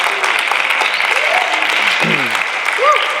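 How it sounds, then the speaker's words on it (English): An audience claps steadily for a panel at an evening pastoral forum, with a brief voice cutting in near the end. "Can you all give them a round of applause?"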